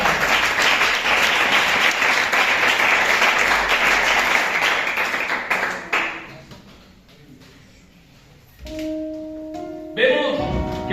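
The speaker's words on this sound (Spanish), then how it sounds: "Dale un aplauso al Señor" Congregation applause at an evangelical church service, dense sustained clapping for about six seconds that then fades out, leaving quieter room sound and a few soft tones near the end.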